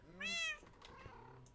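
A single clear meow from a cat, rising and falling in one short call near the start, followed by faint low room noise and soft clicks.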